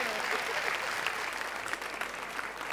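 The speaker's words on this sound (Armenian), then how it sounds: "բարձր, բարձր ծափարեն կանանց" An audience applauding the women, dense continuous clapping filling the room at a steady moderate level, with a voice faintly heard over it.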